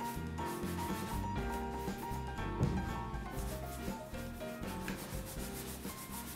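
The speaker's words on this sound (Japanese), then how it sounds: "では馬毛のブラシで表面のホコリ落としをしていきますね。" A horsehair brush sweeps dust off the surface of engineer boots in a shoe repair shop, making continuous close brushing and rubbing strokes with a steady texture and no talk.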